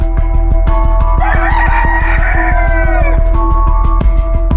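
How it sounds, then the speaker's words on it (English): Roosters crow loudly next door in a neighbour's poultry yard, one long cock-a-doodle-doo rising over a rapid rhythmic mechanical tapping, with a shorter crow following near the end. "had had enough of cocks crowing all night"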